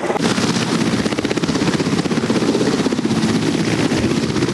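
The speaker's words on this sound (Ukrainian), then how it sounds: "На футбольне поле ліцею приземлився військовий гелікоптер з Олександрійського вертолітного полку." A military helicopter from an army helicopter regiment lands on a school football field, its loud, close rotor chop pulsing steadily under a broad engine roar with no talk.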